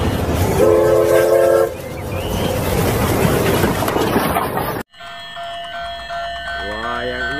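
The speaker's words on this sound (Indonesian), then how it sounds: "kita lihat kereta apinya lagi berputar" Toy train running around a plastic track among toy vehicles, a whirring motor with horn-like tones and rattling, cut abruptly into a quieter hum with more whistle tones.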